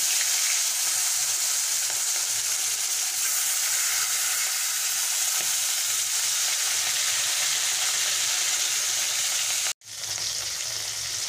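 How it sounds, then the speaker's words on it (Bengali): Tilapia fish fries in hot oil in a wok, making a loud, continuous close-up sizzle that holds steady throughout, broken by one brief cut near the end. "মাছের একটা পিঠ ভাজা হয়ে গেছে,"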